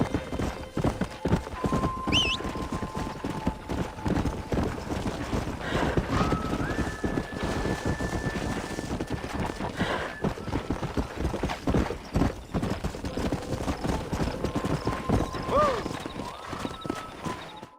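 Horse hooves clip-clopping steadily at a trot in the Western video game Red Dead Redemption, with occasional whinnies and tonal game sounds layered over the continuous hoofbeats.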